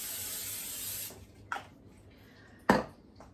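Two short hissing bursts of cooking spray onto a baking pan, following a stretch of running water that stops abruptly.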